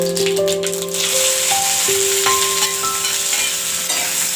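Onion hits hot oil with mustard seeds and cumin, giving a loud, steady sizzle under clattering spoon stirs and rattles against the pan, close by, while faint tonal ringing hums in the background.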